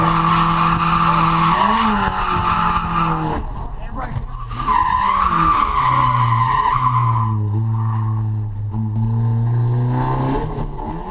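A drift car slides across a race track, its tires squealing loudly and continuously over a revving engine, the pitch rising and falling through long skids.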